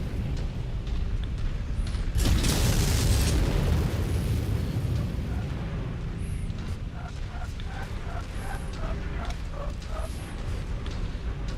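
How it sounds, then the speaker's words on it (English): Autocannon fire in the mech combat game MechWarrior 5: Mercenaries: a heavy roaring burst of blasts early on, then quieter repeated rhythmic shots further off under steady battle noise. "What's all the autocannon I hear?"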